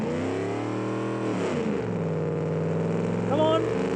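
A V8 and a 4-cylinder car engine rev together in the BeamNG driving game, a steady sustained drone that rises in pitch near the end, heard alone at moderate loudness.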